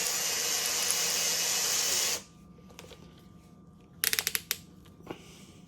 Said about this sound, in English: We're going to start off just drilling some holes